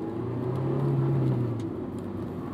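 A Honda S2000 AP1 with the top up on a chilly Northern California road gives a steady mid-pitched engine drone and road whir from inside the cabin, rising slightly and then easing, as if between gear changes.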